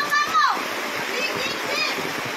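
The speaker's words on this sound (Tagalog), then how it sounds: "Abot tuhod ang malakas na agos ng baha na pinilit suungin ng dalawang residente." Strong knee-deep flash flood current pouring across a national road in Toledo, Central Visayas, a steady loud broadband rush of water with a brief splash near the start.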